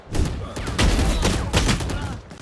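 Rapid gunfire from the video game Valorant crackles in a loud, dense string of shots, with a player's voice talking excitedly over the shooting.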